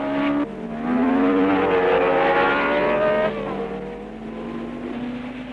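Formula 1 cars of 1962, including a BRM, race at the French Grand Prix, their engines a loud, rising howl that climbs through the gears before dropping back to a lower, steady roar.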